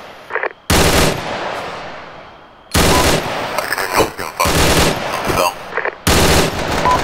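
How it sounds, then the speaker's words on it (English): Friendly machine gun fire in the Arma 3 video game, loud sustained bursts separated by short gaps, with a few quieter shots between them. "Friendly MG fire."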